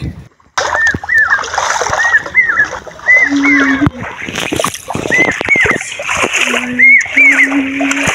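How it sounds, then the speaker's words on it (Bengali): Water splashes and sloshes with steps through shallow river water in a village, while chirpy bird calls and voices come and go nearby. "আমি পানিতে হাঁটছি, পানিতে হাঁটার সময় ছোট ছোট ঢেউগুলো পায়ের উপর উঠছিল"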